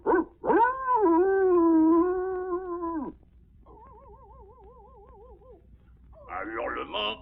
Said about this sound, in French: Un hurlement, 2 jappements, bref.